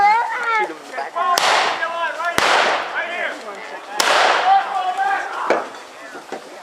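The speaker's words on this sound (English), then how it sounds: "Grab this gun. Shoot" Blank rounds fired at a Civil War reenactment crack out in three or four sharp, loud reports spaced about a second apart, with people talking and shouting throughout.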